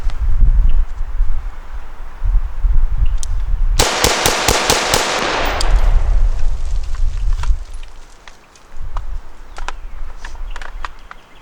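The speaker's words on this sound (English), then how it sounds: "So there you go, 6 quick rounds." Six quick gunshots fired in a rapid, evenly spaced burst from a handgun magazine, starting from a low ready position. They are loud and close, with steady wind-like background rustle before and after.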